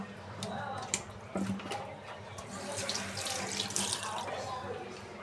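Hilsa fish pieces being rinsed under a running kitchen tap, with water splashing steadily into a sink and a few clunks as the fish is handled, with soft talk in the background.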